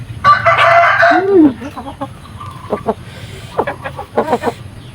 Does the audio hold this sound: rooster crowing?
yes